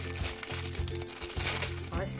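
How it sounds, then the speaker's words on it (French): Paper crinkling and rustling as craft supplies from Action, Noz and AliExpress are unwrapped, close and fairly loud irregular crackling bursts over a low musical hum. "Excusez-moi si je fais un peu de bruit avec le papier"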